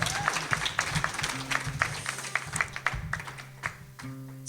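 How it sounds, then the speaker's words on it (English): Audience applause for a guest speaker at a live event, a burst of clapping hands fairly close by, fading out after a few seconds. "Can we please give a round of applause, little louder, for David Kaye."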